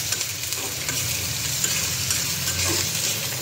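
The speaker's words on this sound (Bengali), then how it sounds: "একটু নাড়াচাড়া দিয়ে নিই" Onions and chilies fry for a fish curry while being stirred, a steady close sizzle with scraping stirring strokes in the pan and no talking.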